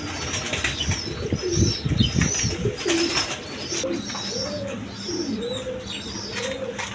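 Pigeons and doves in a loft with chicks being fed, giving soft repeated coos, wing flaps and chirps at close range, with no voices over the steady bird sounds.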